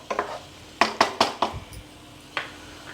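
Chicken fries in a pan as a metal utensil stirs it, giving a quick series of sharp, close clanks and scrapes against the pan over a faint low sizzle.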